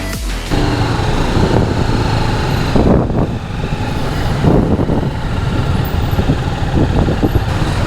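A TVS Apache RTR 310 motorcycle ridden on an open road in Thailand, with a loud, continuous engine drone mixed with road and wind rush and no talking.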